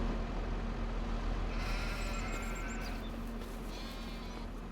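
A few faint sheep bleats in a farming video game rise over a steady low engine-like hum, brief calls spaced a second or two apart.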